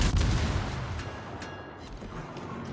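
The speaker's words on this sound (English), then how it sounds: "Gunfire's too loud?" Naval gunfire in World of Warships: a heavy boom at the start, followed by a decaying rumble and a few fainter distant shots.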